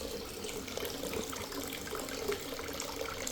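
Water gushes steadily from a stone memorial fountain erected in 1901 by Union ex-prisoners of war at Andersonville, Georgia, a continuous close splashing flow with no voices.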